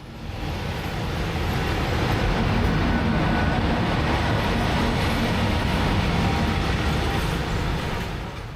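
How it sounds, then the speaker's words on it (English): A Hungarian train with a Ganz Class 433 electric locomotive from the 1960s, heard as a loud, steady rumbling roar of rolling stock from inside or nearby, broadband and unbroken for several seconds, with no talking. "having cleared the switch, we are now ready to attach the electric locomotive"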